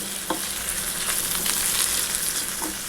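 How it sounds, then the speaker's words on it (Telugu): Chillies frying in a pan produce a dense, continuous crackling sizzle at close range, with a couple of soft stirring knocks and no speech. "ఆ తర్వాత చిల్లీస్ కూడా మనం వేసేసుకోవచ్చునండి. వేసుకొని చాలా చక్కగా మనం ఫ్రై చేయాలి."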